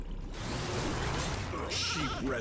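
Sheep bleating inside the Skylanders Superchargers video game, a few short wavering bleats rising near the end over a steady bed of game music and effects.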